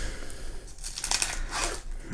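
Close, crackly tearing of tape peeled from a plastic Pokémon card pack, with crinkling bursts over a faint low hum.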